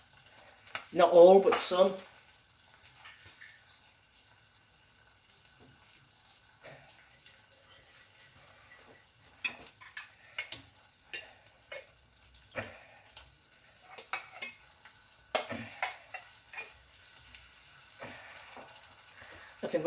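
Mushrooms frying in a stir-fry pan, with a faint sizzle broken by clattering, irregular stirring scrapes, quiet and close, and a brief loud splash of sound near the start; a person speaks briefly.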